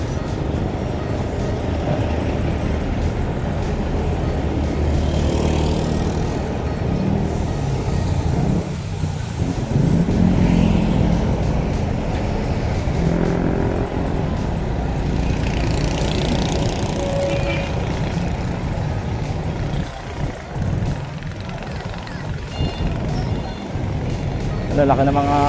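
Buses and other large vehicles rolling past on a highway in Banlic, Cabuyao, heard from a bike as a continuous loud road roar with swells as they go by, while someone talks over it.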